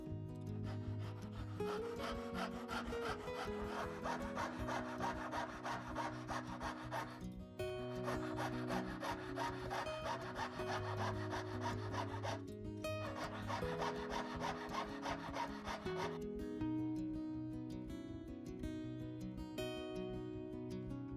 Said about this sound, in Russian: Разрезаю спираль лобзиком на отдельные кольца.